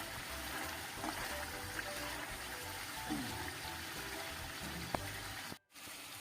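Water poured over fried chicken pieces in a pan while making home-style chicken biryani, a steady running trickle with faint sizzle throughout, briefly cut off near the end.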